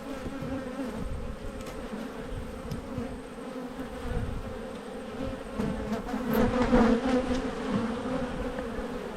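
Honey bees buzz densely around an open hive during an inspection after a tough season. A continuous close swarm drone swells louder near the end, with no talking.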